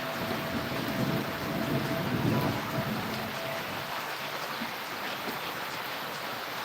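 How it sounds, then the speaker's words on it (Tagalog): Heavy rain makes a continuous, moderately loud wash of pattering and hiss, with a low rumble swelling in the first few seconds before settling to a steady downpour. "Lakas ng ulan."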